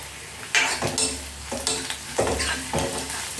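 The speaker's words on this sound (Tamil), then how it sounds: "இப்போ வெங்காயம் ஓரளவுக்கு வதங்கிடுச்சு." Onion sautéing with turmeric powder in a pan, a steady soft sizzle broken by repeated scraping strokes of a spoon against the metal, close and moderately loud with no talking.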